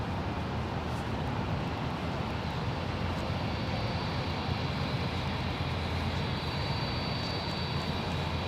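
An airplane taking off at San Jose International Airport, heard as a continuous broad engine roar that stays steady and heavy throughout, with no voices over it.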